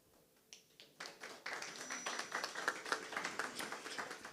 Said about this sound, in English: We are going to keep on clapping our hands until they arrive